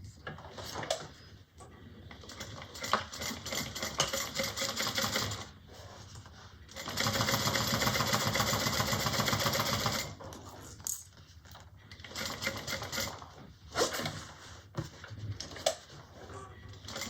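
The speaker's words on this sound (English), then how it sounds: "I'm going to sew just a 1/8 inch stitch around" A sewing machine bastes a 1/8 inch stitch around a pocket on a fabric bag, whirring in three sustained runs separated by brief stops, moderately close and fairly quiet.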